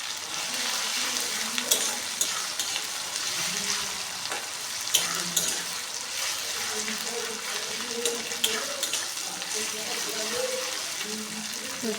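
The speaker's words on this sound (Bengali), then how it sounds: "আদা রসুনের পেস্ট দিয়ে দিলাম এখানে। দিয়ে ওটাকেও একটু কষিয়ে নেব, যাতে আদা রসুনের কাঁচা গন্ধটা চলে যায়।" Ginger garlic paste frying in a pan for an egg tarka, giving a steady sizzle with stirring and scraping throughout, and scattered clicks of the spoon against the pan.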